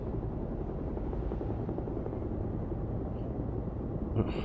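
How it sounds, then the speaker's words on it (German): A steady, low rumbling drone of helicopter rotors and engine from the video game Beyond: Two Souls continues without a break at a constant loud level, with no voices. "Der Boss schickt seinen privaten Helikopter, um einen Agenten abzuholen."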